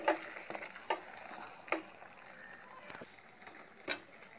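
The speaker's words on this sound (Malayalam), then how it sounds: "സവാള ഇട്ട് വഴറ്റാം ഇതിലേക്ക് ഫ്രൈ ചെയ്ത പൊട്ടറ്റോ ചേർക്കാം" Fried potatoes and sautéed onions are stirred in a pan while cooking a Kenyan-style Swahili beef biryani; a few scattered spatula scrapes and light sizzling are heard close up, spaced irregularly and fading toward the end.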